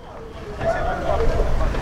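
Strong wind roars and buffets the microphone outdoors in a neighborhood during kite flying, a steady rushing gust under distant voices.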